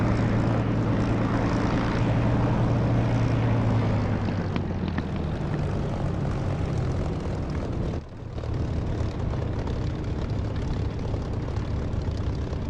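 A propeller aircraft engine in the DCS flight simulator rises as it throttles up, a loud, steady drone with a low hum that climbs in pitch, briefly dips near the end and continues.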